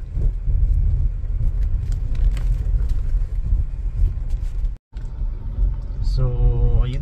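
SUVs and pick-up trucks rolling past on a road near a campsite in Tanay, Rizal, a steady low engine rumble that continues throughout, briefly cut out, with a horn-like tonal sound near the end.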